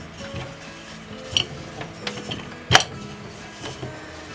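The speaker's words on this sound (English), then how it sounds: "with the leftover flour we're just going to roll a lid for each of the pies" Pastry lids for pies being rolled out with leftover flour: soft rubbing and scraping on a worktop with scattered light clinks of kitchen utensils, fairly quiet and close, with no voices.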